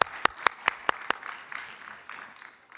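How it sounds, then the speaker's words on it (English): A few sharp, separate claps at first, then they blur into a softer, scattered patter of applause from an event audience, moderately distant. "I think you'd all join me with a round of applause to say thank you for today."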